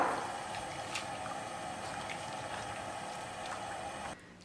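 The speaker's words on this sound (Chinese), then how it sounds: "锅中提前把水烧开，水开后放入我们切好的菜丝儿" Shredded carrot and green pepper dropped into a pot of boiling water on a home stove, giving a steady close bubbling hiss that runs on without talk and cuts off near the end.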